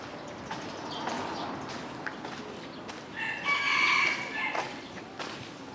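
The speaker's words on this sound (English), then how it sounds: "There are some roosters walking around." A rooster crows once loudly partway through, over a faint outdoor background in Vientiane's Tat Luang neighborhood with scattered soft clucks and small noises.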